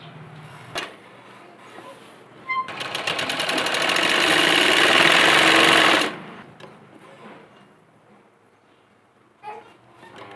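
A sewing machine stitching a girl's Patiala kurti, one steady loud run of fast rhythmic stitching lasting a few seconds, with quieter handling noises before and after.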